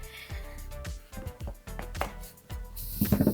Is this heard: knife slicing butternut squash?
yes